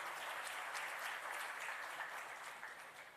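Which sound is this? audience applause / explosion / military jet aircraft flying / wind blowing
audience applause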